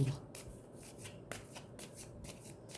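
A deck of tarot cards is shuffled close up in a quiet room, making a series of quick riffling and flicking bursts in an uneven rhythm, soft and continuous, with no voice over it.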